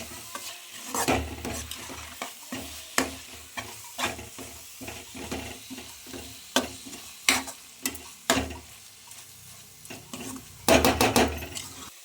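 Colostrum milk burfi mixture cooked with ghee is stirred in a pan, a run of irregular loud scraping strokes and knocks of a spoon against the pan over a soft sizzle, with a quick flurry of strokes near the end.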